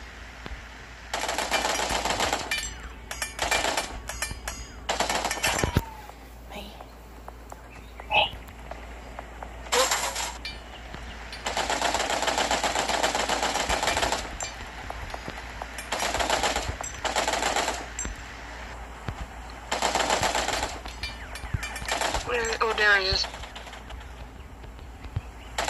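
Gunfire in the survival shooter game LifeAfter: repeated loud automatic bursts and single shots, some long and sustained, with short gaps between them and brief chirpy effects mixed in.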